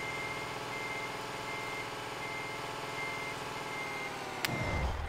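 Reversing beeps from a truck in the Euro Truck Simulator 2 game, a steady rapid series of electronic tones over a constant engine drone, ending in a brief louder rumble and thump.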